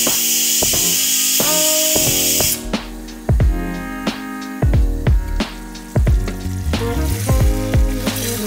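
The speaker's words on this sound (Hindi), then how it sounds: "मटर के पुलाव का तड़का भी मैं अभी से लगा दूंगी" Hot oil crackles and hisses loudly as a tadka tempering for pea pulao hits the pan, a steady sizzle followed by bursts of spattering and clinks of utensils in a home kitchen.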